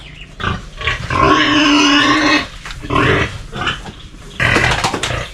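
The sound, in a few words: pigs grunting before feeding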